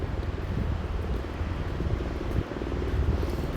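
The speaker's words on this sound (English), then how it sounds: "I've got helicopters and everything flying over above me." A low, continuous rumble of helicopters passing overhead with rushing wind noise, steady and fairly loud, above a flood-damaged area.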